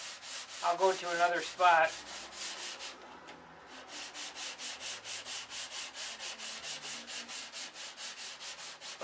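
Wood sanded by hand with a steady back-and-forth rasp in even rhythmic strokes, close and fairly loud, after someone speaks briefly over the first scrapes.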